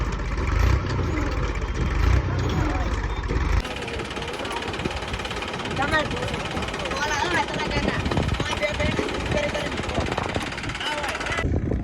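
A tractor engine strains to pull free of stuck manure on a farm, giving a loud, rough, pulsing mechanical rumble that continues throughout under frequent nearby talking.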